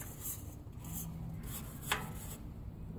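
A brush scrubs rust off a weathered wrought iron railing, making a faint, steady rasping rub with a few slightly stronger strokes and no talking.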